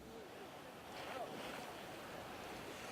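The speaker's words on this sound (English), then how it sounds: "This is a record surge of water, Diane, that we're witnessing right now." Storm surge from Hurricane Sandy pounds New York Harbor in a steady roar of churning water mixed with heavy wind buffeting the microphone, loud and continuous with no clear speech.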